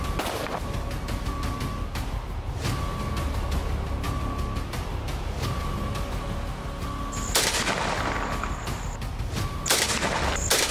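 Rapid, irregular bursts of gunfire from a police shootout with bandits, loud sharp cracks in dense volleys and rattling automatic fire that continue without a break, with a few heavier reports near the end.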